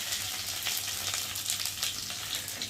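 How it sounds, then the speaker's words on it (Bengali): Spice paste for a prawn dish sizzles loudly in hot oil in a kadai while being stirred, a dense, continuous frying hiss heard up close with no talking. "আর এই তেলের উপরে এখন এই যে বাটাটা দিয়ে একটু ভালো করে নেড়ে চেড়ে দেবো"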